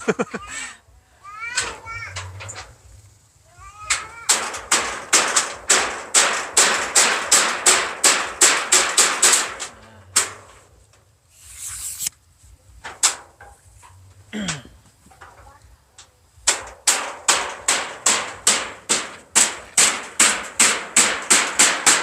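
Sharp hammer blows drive nails in rapid, regular bursts while roofing a kitchen building, pausing between runs, while children talk and shout nearby.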